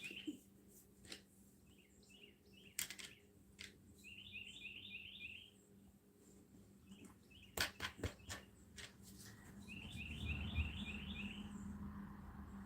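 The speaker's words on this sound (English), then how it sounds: "Okay, the birds are taking over the psalm today." Small birds chirp and trill faintly outdoors, with short repeated twittering phrases and quick rattling runs scattered over a quiet background broken by occasional taps and knocks.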